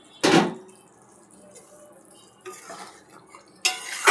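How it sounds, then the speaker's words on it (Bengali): A metal lid comes off a cooking pot of mushroom masala: a sharp clank, a quieter scrape in the middle, and another clattering knock at the end, with faint kitchen noise between. "ঢাকনা খুলে দিলাম।"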